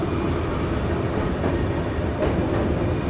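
A long-distance superfast express train rumbles across a railway bridge, heard from on board as a loud, steady roar of wheels and carriages with faint metallic rattles, no voices.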